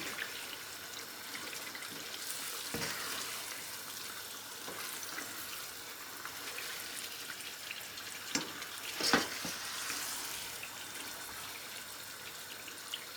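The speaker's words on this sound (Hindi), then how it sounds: "अब हम मीडियम हाई करके इसकी भुनाई कर लेते हैं" Chicken korma sizzling steadily in a pan over medium-high heat as its yogurt liquid cooks down, with a few soft scrapes and knocks of a spoon stirring through the continuous frying hiss; no one speaks.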